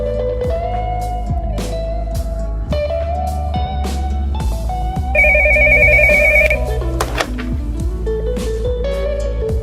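A telephone rings loudly and steadily at a shop counter, with repeated electronic ring tones over a dense musical, tonal background and no speech.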